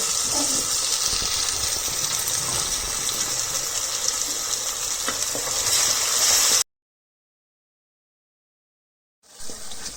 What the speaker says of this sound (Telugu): మసాలా పేస్ట్ని మనం వేసేసుకుందాం. మెల్లె గుమగుమలు ఆడిపోతుందండి.